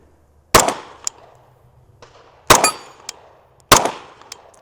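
Three sharp pistol shots fired from a Glock-style handgun loaded with an OEM Glock magazine on an extended base plate, each crack ringing out alone and spaced about a second and a half apart, with small metallic clinks between them.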